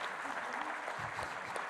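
Audience applause at a business-network conference in Haute-Savoie, a steady, dense wash of many hands clapping throughout, moderately distant and even in level.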